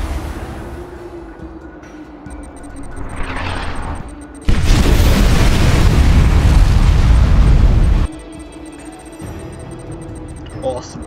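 A nuclear missile strike in the strategy game Command & Conquer 3: Kane's Wrath, a massive roaring explosion that bursts in suddenly and rumbles loudly for several seconds before cutting back to quieter battlefield ambience.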